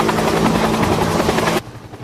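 Helicopter airlifting marine debris off Kahoolawe island, rotor thudding loud and steady up close for over a second and a half before suddenly dropping to a quieter, more distant drone.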